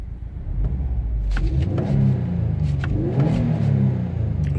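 A 2017–2018 Subaru WRX STI engine with noticeable body vibration, heard from inside the car as a deep rumbling idle rising into a couple of revs, with faint clicks and rattles over the steady low drone.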